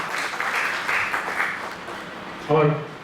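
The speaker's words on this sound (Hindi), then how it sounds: "तालियों से हम अपने सभी अतिथियों का स्वागत करते हैं।" Audience applause welcoming guests at a Varanasi heritage lecture event, moderate clapping over the first half that thins out, followed by a brief voice at the end.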